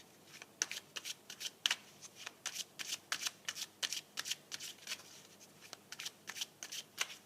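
Tarot cards are shuffled and laid out in quick, crisp riffling bursts that repeat in a steady rhythm, close and fairly quiet, with no talk.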